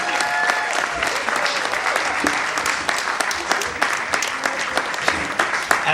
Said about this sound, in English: let's hear a round of applause for the gypsy dancers here